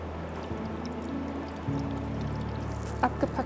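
Liquid being poured off cooked food at a campfire on a canoe trip in the Norwegian–Swedish wilderness: a soft, low splashing trickle over a steady low rumble, with a few brief clearer splashes near the end.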